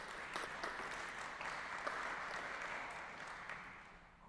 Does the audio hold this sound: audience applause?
yes